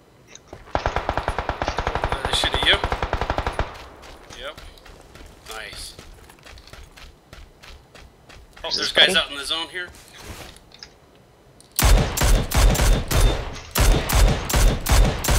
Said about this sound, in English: I hear shots like right here.